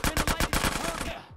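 A pistol fired in GTA San Andreas Definitive Edition gives about seven rapid, sharp shots in a quick regular burst, then a short ringing decay, close and punchy with no talking over it.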